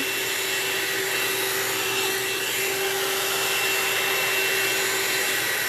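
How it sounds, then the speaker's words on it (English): A round-brush blow dryer whirs continuously with a steady airy hiss and a constant motor hum, close by and unchanging. "It is a blow dryer in the shape of a round brush."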